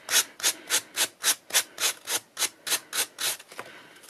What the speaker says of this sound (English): I've sanded the majority of the edges with this sanding block.